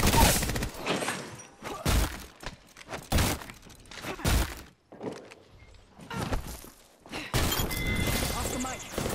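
Rapid gunfire bursts in Apex Legends, loud and clustered with brief gaps, some heavy thuds and sharp cracks mixed among repeated volleys that continue through most of the stretch.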